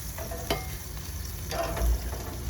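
Marinated chicken sears on a grill in the Philippines, a steady close hiss with a couple of sharper crackles and bumps, no talking.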